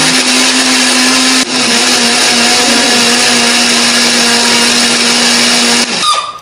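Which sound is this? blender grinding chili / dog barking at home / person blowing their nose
blender grinding chili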